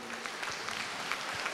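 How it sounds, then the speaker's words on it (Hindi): A large audience claps together at a Swami Ramdev public gathering, a dense, even roar of clapping that holds steady for the whole short stretch, loud and continuous. "जोरदार ताली बजाओ अपने लिए"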